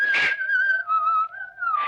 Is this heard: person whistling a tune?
yes